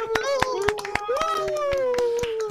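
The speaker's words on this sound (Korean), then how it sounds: "박수." Sharp hand claps from a few people on an online talk show, a dozen or so distinct claps in loose rhythm over a continuous speaking voice.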